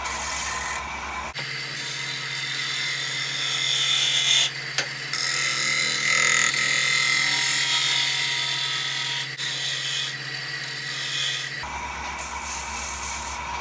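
Woodturning lathe taking a final cut across a wooden chip-and-dip platter, a steady rubbing, scraping rasp that runs nearly continuously for about ten seconds, with a brief pause partway through, and no talking.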